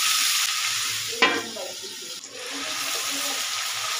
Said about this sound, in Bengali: এটাকেও লাল লাল করে ভেজে একটু তুলে নেব